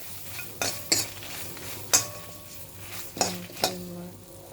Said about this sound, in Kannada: ಘಮ್ ಅಂತ ಆ ಬಾದಾಮಿ ಚೆನ್ನಾಗಿ ಹಾಕಬೇಕು, ಚೆನ್ನಾಗಿ ಹುರ್ಕೋಬೇಕು